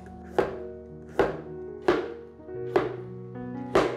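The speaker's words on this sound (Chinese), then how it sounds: "把南瓜切片。" A knife slices through pumpkin on a cutting board in five evenly spaced, crisp chops, each a sharp close thunk with a short ring-out, heard alone without talk.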